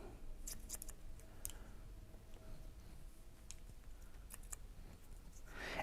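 Scissors snip through hair during a modernized square shag haircut, giving a few quiet, crisp cuts that come in scattered bursts over a soft, steady room background.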